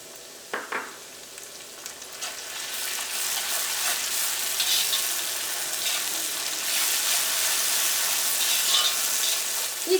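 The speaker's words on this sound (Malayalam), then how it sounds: "ഈ ചില്ലി പേസ്റ്റൊക്കെയും ഈ എണ്ണയിൽ കിടന്നിട്ട് നന്നായിട്ടൊന്ന് മൊരിയണം." Chili paste fries in hot oil for chilli fish with a continuous bright sizzle, after a couple of light taps at the start.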